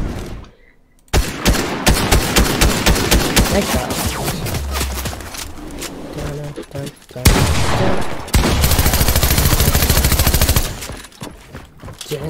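Rapid bursts of gunfire from a new weapon in the Fortnite video game, loud and close, with long sustained automatic volleys and short pauses, mixed with game effects and a brief spoken word.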